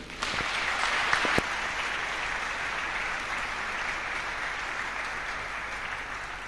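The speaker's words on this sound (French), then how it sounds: "Acclamons le Seigneur." A church congregation bursts into loud, sustained applause for the Lord during a sermon, a dense wash of clapping that stays steady and fills the room, with a few sharp claps near the start.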